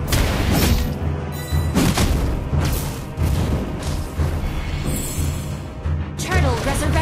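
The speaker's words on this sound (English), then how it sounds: "Our turret has been destroyed." A turret is destroyed in a team-based video game, with a few heavy booming impacts spread across the moment over steady game noise and background talk.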